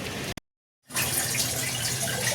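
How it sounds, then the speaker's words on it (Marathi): Tap water pours steadily into a container after a brief burst and a half-second of silence, a full, close rushing stream that continues to the end. "तर गाईस आता मी पाणी भरतोय"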